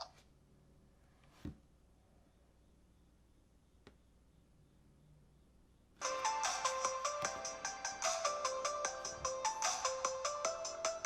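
Music plays through a reviewed product's speakers, starting abruptly after several seconds of near silence with a few faint clicks, then running loud and bright with a steady, punchy beat.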